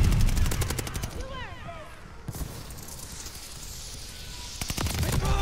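Video-game gunfire hits defensive hard points in bursts of rapid automatic shots, loud at the start and end with a quieter gap between, and faint chirping effects and voices mixed in.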